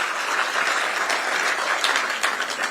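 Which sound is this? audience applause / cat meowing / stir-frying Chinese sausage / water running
audience applause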